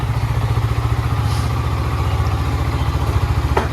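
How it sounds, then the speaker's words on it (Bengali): A motorcycle idles close by with a steady, fast low-pitched thrum and a slight clattery pulse, continuous and unchanging throughout. "মনি বাইক বার করছে"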